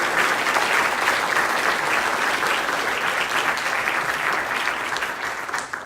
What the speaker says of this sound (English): So if we could have one more big round of applause for